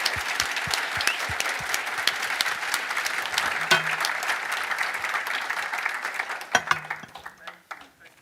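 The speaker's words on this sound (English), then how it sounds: "I hope you all join me in a round of applause to thank you for the contributions" A conference audience applauds to thank a panel, a dense, steady clapping wash with distinct sharp claps near the start that fades out toward the end, with a few voices briefly audible.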